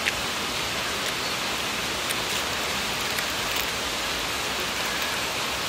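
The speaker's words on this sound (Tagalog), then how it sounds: "Kasi sobrang lakas ng ulan." Heavy rain pours down in a dense, steady hiss, with occasional sharper drops pattering close by.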